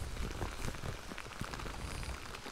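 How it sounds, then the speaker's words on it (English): Rain falls in a French forest, a dense, even patter of drops striking leaves and surfaces, steady and close throughout with no voices. "I think it's raining."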